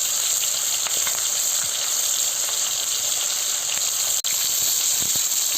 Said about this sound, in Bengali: দেখুন বন্ধুরা, মাছের বড় মাথাটা আমি ভেজে নিচ্ছি।